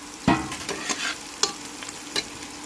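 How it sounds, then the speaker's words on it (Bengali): Onion and garlic stirred and frying in oil left from frying fish, a steady close sizzle broken by a few sharp clatters of stirring, with no talk. "যে তেল দিয়ে মাছ ভাজলাম সেই তেলের মধ্যে দিয়ে দিয়েছি পেঁয়াজ রসুন"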